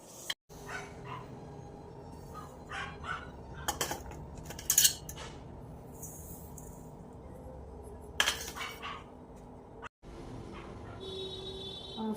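A spoon mixes cauliflower pickle in a dish with chili powder, mustard powder, fenugreek powder, lemon juice and oil, giving scattered quiet scrapes and a few sharper metallic clinks against a low background.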